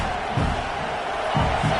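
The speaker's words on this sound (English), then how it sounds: "It's early, but this crowd is fired up. Listen to this noise here." A fired-up football stadium crowd at a Penn State versus LSU game roars in a steady, dense wash of cheering, swelling slightly near the end, with no single voice standing out.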